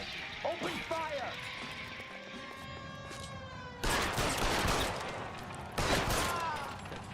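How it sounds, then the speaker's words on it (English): Gunfire erupts in the video game LA Noire as two loud bursts of shots, each lasting about a second, over game music and voices talking. "Open fire!"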